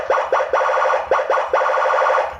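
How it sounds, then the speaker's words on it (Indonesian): A custom Senken police escort siren fitted to a Honda Vario motorcycle blares loud, repeated rising whoops in quick bursts, close up and with no talking. "buat pasang sirine Patwal custom Senken di motor Honda Vario ya"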